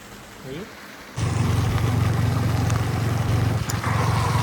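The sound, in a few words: rain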